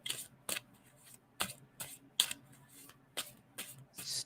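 Playing cards are shuffled by hand, several sharp riffle bursts spaced roughly half a second apart, close and distinct against a quiet background with no speech.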